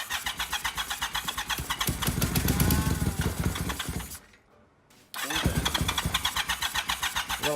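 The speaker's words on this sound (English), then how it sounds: "So we've gotten it to crank" A 1980 Yamaha XS850 motorcycle engine that is not getting fuel, cranking over with a fast, rhythmic chugging starter sound, stopping for about a second, then cranking again, loud and close.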